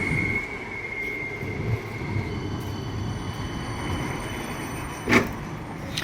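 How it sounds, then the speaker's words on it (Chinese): An Amsterdam tram rolls along its rails with a steady low rumble and faint wheel whine, heard from onboard, with one sharp metallic clack near the end. "阿姆斯特丹市区的车很多都是这种有轨电车"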